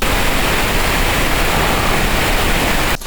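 Pink noise from a noise player, a loud, even, broadband hiss filling the whole clip like steady rushing water, cutting off abruptly right at the end.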